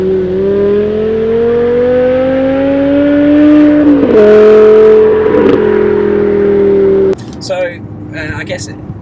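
A BMW E60 M5 V10 with straight pipes pulls hard in a rising, loud, sustained howl that briefly breaks with a sharp flat-shift stutter, then continues before cutting off, heard from nearby.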